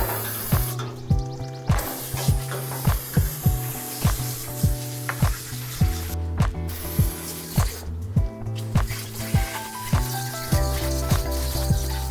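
Expanding foam coil cleaner sprays in repeated short hissing bursts onto the outdoor coils of a home air conditioner, with crackling, sizzling foam between bursts and a steady rhythm of sprays throughout, no voices.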